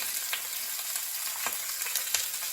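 A hake fillet pan-frying, giving a steady close crackling sizzle with scattered small pops and no voices.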